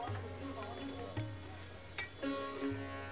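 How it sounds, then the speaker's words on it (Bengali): Mutton do pyaza is stirred with butter in a hot pan, making a faint, steady sizzle with light scraping under a background hum of tonal notes. "1 টেবিল চামচ মাখন এর মধ্যে দিতে হবে, দিয়ে খুব ভালো করে নেড়ে এটাকে মেশাতে হবে।"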